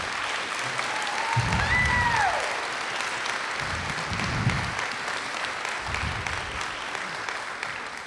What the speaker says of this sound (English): I'd like you to clap for Janet and her work.